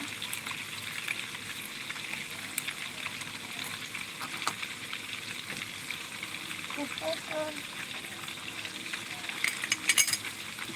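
Fish frying in a pan, a steady low sizzle running throughout with faint scattered crackles and clinks, fairly quiet and even in level.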